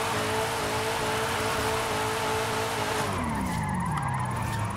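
A 1200hp minivan drifts in Forza Horizon 5, with continuous loud tire skidding layered over a droning engine whose pitch sweeps down near the end, and no talking.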